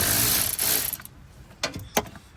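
A 10 mm ratchet wrench works the negative battery terminal on an Audi B7 A4 2.0 TFSI, giving a rasping ratchet burst followed by a few sharp metallic clicks, close up with no talk.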